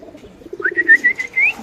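Pigeons perched in a flock on a rooftop: a brief soft coo followed by a few short whistly calls, close and clear over faint background noise.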